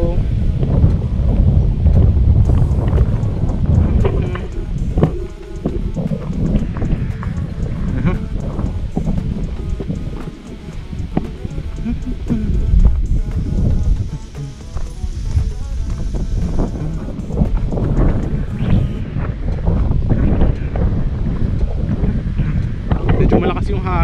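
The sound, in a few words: strong wind blowing at Tagaytay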